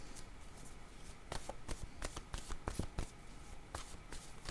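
Tarot cards being shuffled for a reading give soft, quiet riffling with a series of crisp flicks and taps over a faint, steady background hiss.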